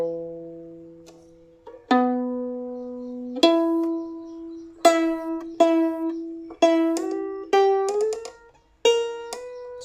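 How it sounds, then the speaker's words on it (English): Violin strings plucked one at a time, each pizzicato note ringing out clearly and decaying slowly, a series of about eight separate notes, close and alone with no talk. "You can tighten the strings enough and then you just pluck the strings one by one"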